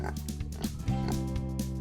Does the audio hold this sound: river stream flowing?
no